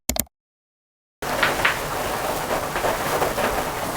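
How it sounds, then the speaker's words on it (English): After a brief burst and a moment of silence, steady rain sets in, a constant hiss of drops falling outdoors. "it started raining outside."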